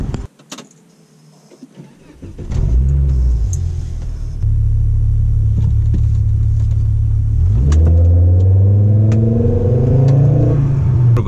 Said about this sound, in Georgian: ეს ხმაც რომ გესმით, ესეც იმის მანიშნებელი არის, რომ ამას უყენია უკვე aftermarket, ანუ შეცვლილი, დატუნინგებული, ასე ვთქვათ, გამონაბოლქვის სისტემა